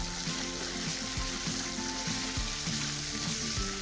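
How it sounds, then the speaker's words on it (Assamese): Marinated chicken meat frying on a high gas flame in a curry-leaf chicken curry, a steady loud sizzle with periodic stirring scrapes, close up and without talk. "মাংসখিনি ভালদৰে হাই ফ্লেমত অলপ দেৰি ভাজি ল'ব লাগিব"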